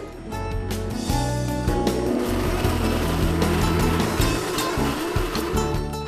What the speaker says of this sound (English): now we're going to puree that